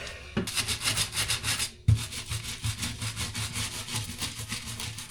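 A toilet floor flange is scrubbed clean with degreaser, producing rapid rhythmic rubbing strokes, close and steady, briefly interrupted once before resuming.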